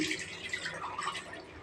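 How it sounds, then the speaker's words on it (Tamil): Soaked rice being washed in water by hand for a lentil pongal, a steady wet sloshing and dripping close by, continuous with no talk. "அரிசியை ஒரு பத்து நிமிஷத்துக்கு முன்னாடியே ஊற வச்சிட்டேன் இப்போ அதை நல்லா கழுவிக்கிறேன்"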